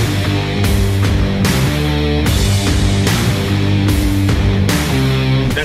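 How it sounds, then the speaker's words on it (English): Siren on a Harley-Davidson Road King police motorcycle wails loud and close, cycling in steady repeated sweeps, with the air horn's dense blare layered over it throughout. "That is the siren and the air horn"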